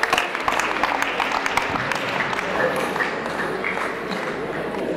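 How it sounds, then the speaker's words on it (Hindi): An audience applauds at a rangoli competition, a dense, sustained patter of many hands clapping that stays steady and fairly loud for several seconds, with a voice faintly underneath. "तालियां बजती रहनी चाहिए,"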